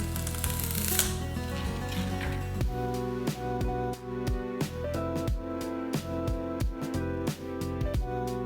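A knife dices celery and other soup vegetables for chicken noodle soup on a cutting board, giving a run of crisp, evenly spaced chops at close range over steady background music, with no talking.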